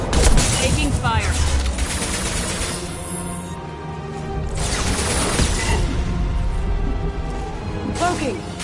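Bursts of gunfire and combat noise in the video game Mass Effect 2, loud and continuous, with sharp shot clusters near the start, middle and end, mixed with game sounds and a spoken voice.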